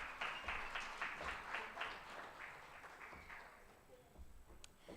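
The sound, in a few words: applause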